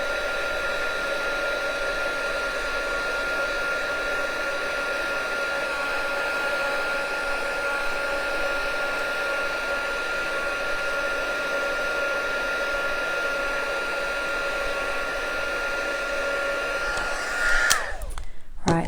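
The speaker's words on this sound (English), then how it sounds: "hopefully you can hear me over the heat tool." A heat tool drying watercolour paper blows with a steady, loud, whining hum, then cuts off at the end with a brief clatter.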